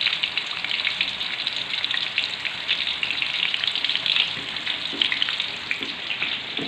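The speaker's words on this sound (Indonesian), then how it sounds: "Ini sekarang kentangnya lagi kita goreng dulu sampai matang" Potatoes frying in hot oil for Indonesian sambal goreng kentang, a steady dense sizzle with crackling pops running continuously and close, no voices over it.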